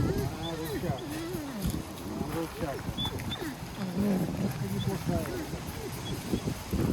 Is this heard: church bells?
no